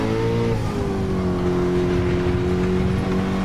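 A 2017 Nissan GT-R accelerates hard on a race track, its engine giving a loud, sustained drone with steadily climbing pitch, heard close from inside the car.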